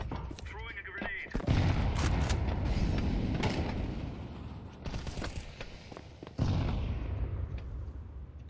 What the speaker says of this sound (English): Deploying flashbang. Throwing a grenade.